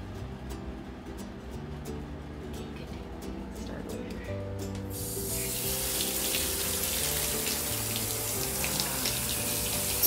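Water from a pet sprayer attachment runs while a Goldendoodle is bathed, a steady hiss that starts partway through and continues loud to the end, with background music or noise underneath throughout.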